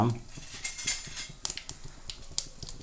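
Mustard seeds pop and crackle in hot coconut oil in a pan, quick irregular sharp snaps over a low sizzle, with occasional metallic clinks of a utensil close by.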